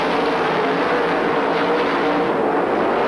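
Sprint cars race around the dirt track at Speedway Park in Adelaide, a constant loud blaring engine roar filling the scene with no break or pause.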